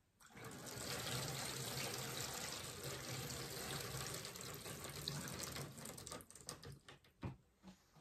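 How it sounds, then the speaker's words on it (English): Water poured into a seed tray of soil for onion seeds started indoors, a steady close splashing trickle for several seconds that breaks into scattered drips and small splashes as the pour ends. "Now I'm going to pour some water into my tray in order to get my soil moistened from"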